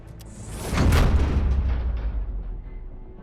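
A heavy truck or bulldozer rumbles in the video game Robocop Rogue City, a deep low-end roar that swells with a whooshing sweep about a second in, then holds as a steady, loud engine drone.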